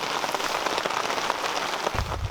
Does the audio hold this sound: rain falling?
yes